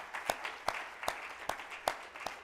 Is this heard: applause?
yes